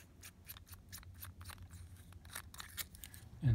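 An Eagle fountain pen's barrel is unscrewed close up, giving a quick run of light, crisp plastic clicks and ticks with a slightly heavier knock at the very end.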